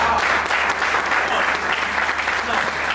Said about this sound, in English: Clap for us, come on